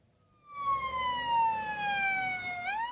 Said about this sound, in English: The sirens of security vehicles wailed in Copenhagen